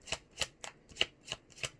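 Tarot cards are shuffled in quick riffled bursts, six or so crisp flutters close up, with no talking.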